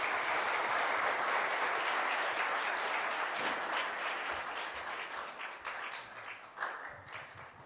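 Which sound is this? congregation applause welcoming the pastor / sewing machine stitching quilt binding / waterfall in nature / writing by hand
congregation applause welcoming the pastor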